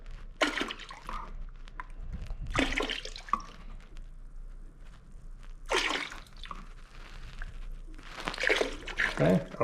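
Fabric softener is poured into a cooler filled with hot water, with liquid splashing and trickling in several bursts over a low steady hum, and a person talking at times.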